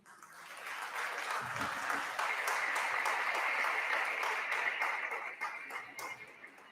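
An audience applauds at the opening ceremony of the Manila Skills Experts' Meeting, a sustained wash of many hands clapping that rises quickly, holds steady for several seconds, then thins toward the end.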